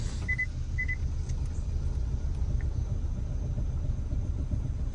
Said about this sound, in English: Let's give her a drive around the block and see how she's doing.